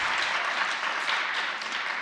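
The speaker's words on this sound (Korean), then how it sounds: "박수를 치려면 치든가." A church congregation at a youth worship service applauds in a steady, even wash of clapping that holds for about two seconds without a break.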